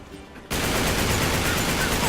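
Dense, loud burst of rapid gunfire from Uncharted 3 starts abruptly after a quiet half-second and rattles on without a break.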